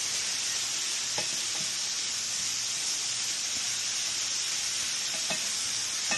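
Okra sizzles steadily in a hot pan on lowered heat, a constant close frying hiss with a few soft clicks and stirring knocks and no talking.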